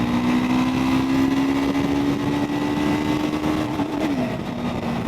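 Single-cylinder Triumph Scrambler 400 X motorcycle engine held in 4th gear on a steep uphill, a steady loud drone whose pitch climbs gradually before a brief dip near the end, heard close with no talking.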